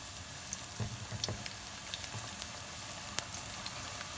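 Chinese-style vegetable pakoras dropped one by one into hot oil, a faint, continuous sizzle and bubbling with occasional small pops and splashes.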